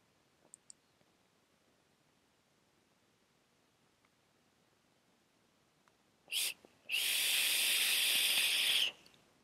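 Vaping on a Vandy Vape Kylin Mini RTA atomizer, a short hiss followed by a sustained, loud crackling draw of about two seconds, close to the microphone after near silence with a few faint clicks.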